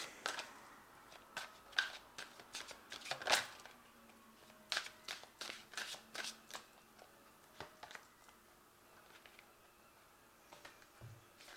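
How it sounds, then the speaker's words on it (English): Angel Tarot cards are shuffled and drawn, a run of crisp riffling snaps and soft slaps, quiet and close, in irregular clusters with no talk. "So I'm going to just draw some cards from the Angel Tarot."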